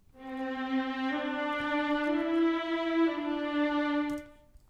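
A sustained sampled string chord plays molto vibrato, wide and wavering, shifting pitch twice before fading out, with no voices present.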